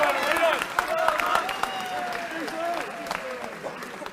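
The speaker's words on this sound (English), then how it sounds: "So just a huge round of applause for those 3 lads." Applause and cheering from a crowd at a schools' hurling cup final, steady clapping with voices calling over it, fading slightly toward the end.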